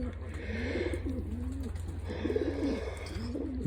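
Pigeons in a loft coo in soft, repeated rolling phrases, close by and fairly quiet, with someone speaking over them.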